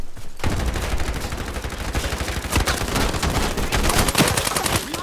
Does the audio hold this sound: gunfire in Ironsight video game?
yes